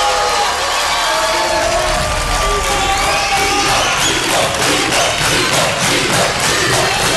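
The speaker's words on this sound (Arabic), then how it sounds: "تشجيع في الاستوديو" A studio audience at a quiz show final cheers and shouts loudly and continuously, a dense wall of crowd noise with whoops and voices that stays intense throughout.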